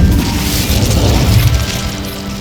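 The Incendio fire spell cast in Hogwarts Legacy against spiders in a cellar, a loud booming whoosh of flame that rumbles heavily and fades without a break.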